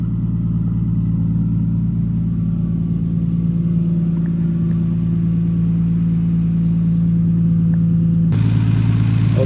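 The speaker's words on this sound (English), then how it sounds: "See if you can hear it. And we'll give it some revs here a little bit" A Nissan Skyline R34 with an RB26DETT engine idles in a close, steady low rumble that continues unbroken, then shifts to a sharper revved tone near the end.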